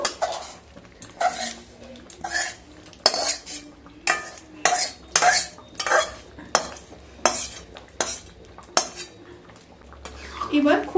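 Metal spoon scraping and clanking against a pot while stirring fried spices into vegetable khichuri of rice, lentils, potato and cauliflower, in rhythmic bursts of about a dozen strokes, close and fairly loud with faint sizzling between.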